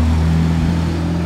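A Porsche GT3 RS MR, apparently a Manthey Racing version, runs steadily nearby with a low, even engine hum lasting about a second, with no voices over it.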